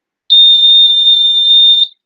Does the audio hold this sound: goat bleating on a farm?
no